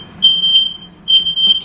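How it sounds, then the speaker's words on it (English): A smoke detector shrieks in two loud, piercing high-pitched beeps close by, tripped by smoke from two Ninja Foodi grills cooking ribeye steaks. "Having both of these running set the smoke detector off"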